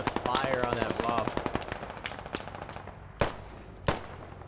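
Automatic rifle fire in the military shooter Squad, rapid bursts rattling close under a voice, then easing into a few separate loud shots with pauses between.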